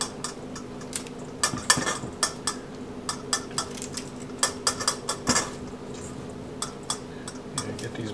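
A knife halves broccoli florets on a cutting board for a broccoli salad, making light, sharp taps and clicks at an uneven pace over a steady background hum. The cuts are near and fairly soft.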